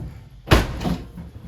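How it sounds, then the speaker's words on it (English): A wooden shed door slams once in the breeze, a sharp close bang followed by a softer rattle as it settles. "oh, door slamming in the breeze."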